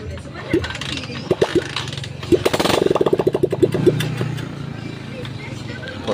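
Motorcycle engine just reassembled by a mechanic, sputtering through a few bursts then a rapid pulsing run before settling, with people talking nearby over it.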